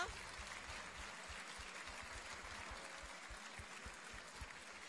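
A gala ball crowd gives a round of applause, faint and distant, a soft steady patter of many hands lasting several seconds.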